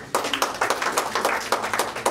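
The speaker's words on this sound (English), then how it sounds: "clap for Jesus." A church congregation claps steadily and rhythmically, many hands together in a brisk, even beat, fairly close and unaccompanied by voices.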